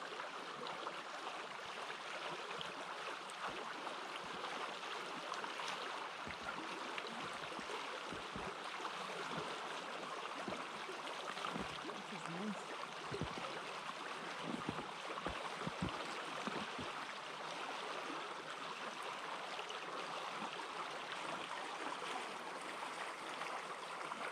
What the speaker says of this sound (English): see if the GoPro picks up the rustling water